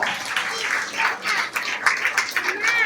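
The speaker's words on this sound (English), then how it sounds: "So big round of applause for Aradhya." Audience applause at a school annual function for a class one student, a dense steady wash of many hands clapping at moderate distance, with faint voices mixed in throughout.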